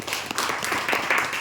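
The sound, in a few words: class clapping for students who answered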